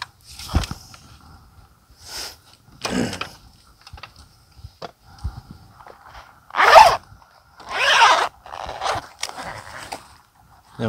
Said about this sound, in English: So we're just going to unzip this.